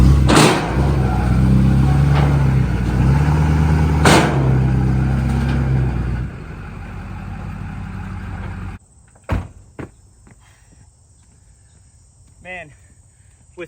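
A heavy diesel truck engine with no power brakes rumbles loudly up close for several seconds, then gives way to a quiet stretch broken by a few clicks and knocks.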